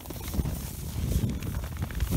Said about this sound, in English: So Jessica doesn't like the horses running around her